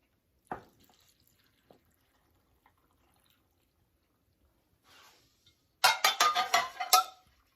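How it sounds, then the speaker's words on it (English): Water pours into glass canning jars of beef stew, a close, bright run of splashing and gurgling at the end, after a few scattered clinks and drips in a quiet room. "I can fill the rest of the way up with water"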